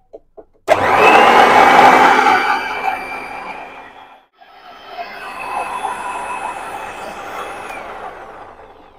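An electric mixer kneads martabak dough, starting abruptly with a loud, close motor whir that sags and briefly cuts out midway, then resumes more quietly and continues steadily.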